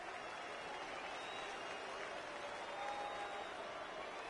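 Stadium crowd in MLB The Show 19 baseball game roaring steadily throughout, a dense sustained cheer that swells slightly near the end, with no talk over it.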